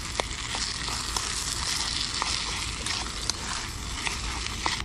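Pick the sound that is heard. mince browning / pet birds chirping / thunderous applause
mince browning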